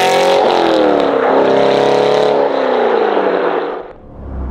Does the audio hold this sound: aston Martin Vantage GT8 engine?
yes